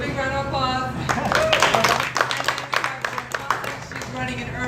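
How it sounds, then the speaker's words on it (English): Scattered clapping from the audience at a political coffee talk in a bakery café, a few hands clapping unevenly and close by while voices talk over and around it. "let's give a big round of applause to him"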